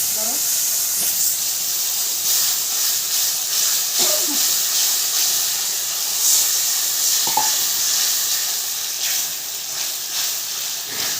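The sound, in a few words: spices frying and being stirred in a kadai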